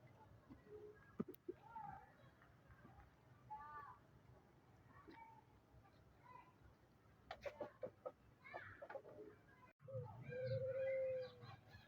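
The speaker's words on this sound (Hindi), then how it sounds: "ये मैंने मुर्गा खोला है" A rooster and chickens in a yard give scattered clucks and squawks, fairly faint and intermittent, with a longer, louder call near the end over quiet background.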